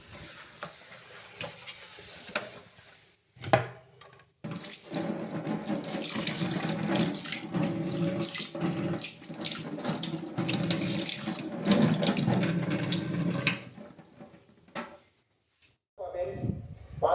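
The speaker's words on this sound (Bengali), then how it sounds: "আমি রান্না করার পর আমি বেসিনটাও ধুয়ে নিই ভালো করে ধুয়ে নেবো" Tap water runs hard into a kitchen sink basin as it is washed after cooking, a loud close gush with brief pauses and scrubbing splashes, stopping near the end; someone talks at times.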